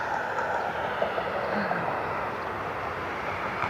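CRJ regional jet at Cleveland Hopkins airport, a steady, distant engine roar heard continuously outdoors with a person talking over it.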